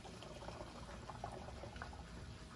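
Vinegar pours through a funnel into a bottle, a soft, steady gurgling trickle of liquid that continues evenly and quietly throughout.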